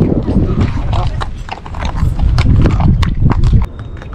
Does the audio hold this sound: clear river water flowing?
no